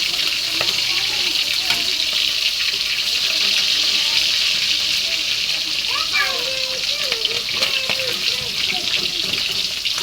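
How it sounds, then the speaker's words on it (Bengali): Flipped pieces of rohu fish sizzling in a wok, a steady close crackle with faint, watery bubbling and occasional soft clinks running throughout. "মাছগুলো উল্টাই দিচ্ছি। এবার এই পিঠ করে ভালো করে ভেজে নেবো।"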